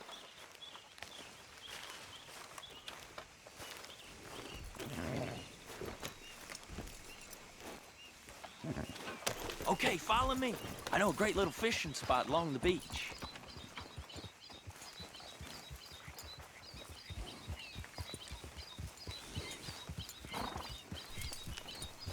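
Horse hooves clip-clop at a steady walking pace in Red Dead Redemption 2, running under a voice and light ambient game sounds, getting louder in the middle stretch.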